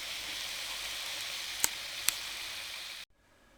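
Potato slices coated in gram flour batter fry in hot oil with a steady, even sizzle. Two faint clicks come partway through, and the sizzle cuts off abruptly near the end.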